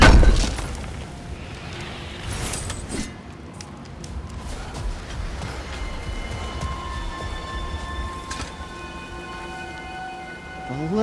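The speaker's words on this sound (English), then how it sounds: "Storms have plagued Alfheim's deserts." Rain pours steadily across the deserts of Alfheim in God of War Ragnarök, with a heavy rumble at the start and more rumbling near the end, moderately loud throughout.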